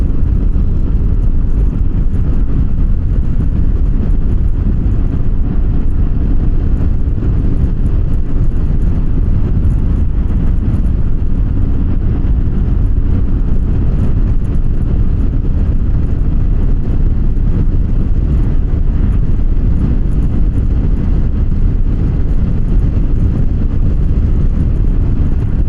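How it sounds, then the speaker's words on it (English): Inside a moving car, a steady, loud wind and road roar rumbles throughout without a break, with no talking. "Now here I'm feeling a little bit of wind."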